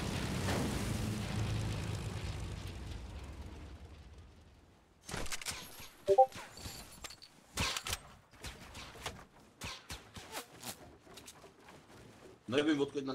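Gunfire and explosions in a video game battle where an aircraft is being shot at: a dull rumbling stretch gives way to sharp, scattered bursts and cracks of varying loudness, some close and punchy.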